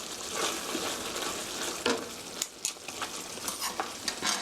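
Salted pork topping for a rice bowl being stirred and tossed in a hot pan, a steady sizzle with scraping spoon strokes and light clinks against the metal, close and continuous without talk.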